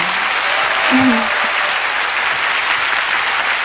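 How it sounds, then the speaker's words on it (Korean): A studio audience at a Korean music talk show breaks into loud, sustained applause, a dense crowd of clapping that holds steady, with a brief voice rising over it near the start. "이럴 때 박수로."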